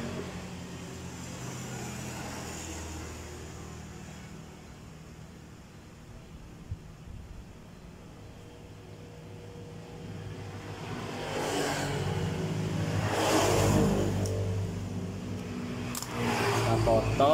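A Honda Spacy FI motorcycle with a stuck O2 sensor runs at a steady low idle hum throughout, with people talking over the engine toward the end.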